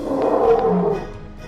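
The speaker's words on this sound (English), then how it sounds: "Just then, they heard a loud roar." A lion roaring, one sustained loud, raspy, mid-low roar fading out after about a second, close and alone without speech.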